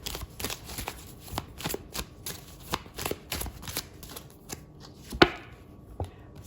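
A Romance Angel Oracle deck is shuffled by hand nearby, a rapid series of soft riffling cards and sharp card taps in an irregular rhythm, with no talking.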